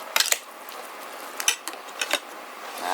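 Pancit canton is stirred in a pan with a utensil, giving sharp metallic clinks and scrapes at irregular intervals over a faint continuous sizzle, close by.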